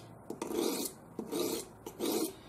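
A Buck EdgeTek Ultra Flipstik diamond sharpening rod files metal in three rasping strokes, each a gritty scrape with a short pause between, close and clear.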